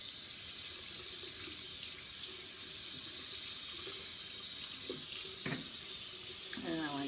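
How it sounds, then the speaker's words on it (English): Tap water runs steadily into a sink as soap is rinsed off makeup brushes, a constant close hiss with occasional splashes and a brief faint voice near the end. "And then I'm going to rinse the soap off."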